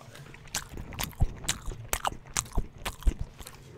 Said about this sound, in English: Chewing ASMR.